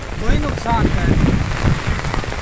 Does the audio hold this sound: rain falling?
yes